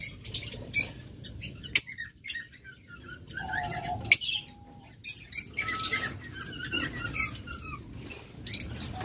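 A pair of blue Fischer's lovebirds make short, sharp chirps and squawks in bursts, close by, with some wing fluttering and brief whistled notes in between.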